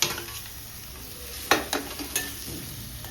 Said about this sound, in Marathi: त्यानंतर आता ही फ्राय केलेली कारली टाकूया छान मिक्स करून घ्यायचं